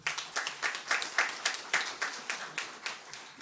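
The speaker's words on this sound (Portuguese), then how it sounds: "Uma salva de palmas aí para o Toninho" A small audience gives a round of applause during a plenary session in Osasco, with distinct, moderately loud hand claps in a steady, slightly loose rhythm, no voices over it.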